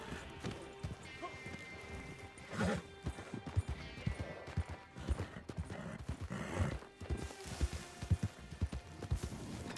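Horse hooves clip-clop steadily in the video game Red Dead Online, a busy run of overlapping hoofbeats with scattered thuds throughout.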